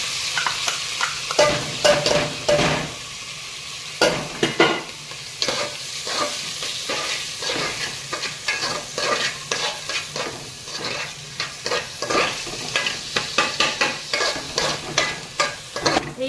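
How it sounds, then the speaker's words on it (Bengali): Gobindobhog rice sizzles while frying in ghee, broken by repeated scraping stirs of a spoon against the pan, steady and close with no talking. "আমার চালটা ভাজা ভাজা হয়ে গেছে"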